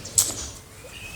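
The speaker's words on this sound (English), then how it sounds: "And I apologize for the loud bird noise." Garden birds busy at a late-afternoon feeder make a short burst of high chirps and fluttering near the start, then softer scattered calls over outdoor background noise.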